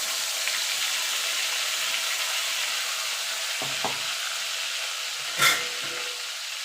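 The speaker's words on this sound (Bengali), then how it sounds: "এটাকে একটুখানি ভালো করে কষিয়ে নেবো কাঁচা গন্ধটা যাওয়া পর্যন্ত রসুন আর পেঁয়াজের" Onion and garlic paste sautéing with nigella seeds in oil, a steady soft sizzle close by with a few light scrapes of stirring and one brief clink near the end, no talk.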